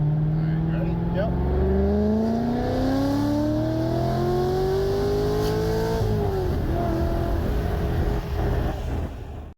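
A Corvette C6 Z06 with its LS7 V8 revs hard during an exhaust back-pressure test, the loud engine note climbing steadily in pitch for several seconds before dropping back, with people talking over it.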